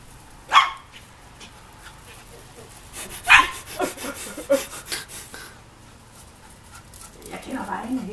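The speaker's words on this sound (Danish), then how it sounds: "jeg har hørt ham gø på den måde der" A dog barks in a couple of sharp bursts amid panting and rustling, with people talking nearby.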